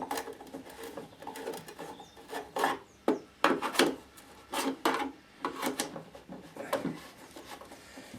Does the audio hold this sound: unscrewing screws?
yes